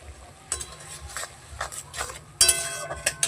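Onion masala with turmeric powder stirred in a pan for chana masala: a spoon scrapes and knocks in uneven strokes over a soft sizzle, louder toward the end.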